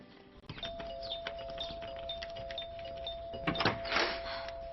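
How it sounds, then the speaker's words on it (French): Doorbell ringing indoors in a French TV series scene, a sustained electronic tone with repeated chiming notes and a brief burst of rustling noise near the end, fairly close and clear with no talk. "Tu as vraiment besoin de leçons sur l'usage de la sonnette."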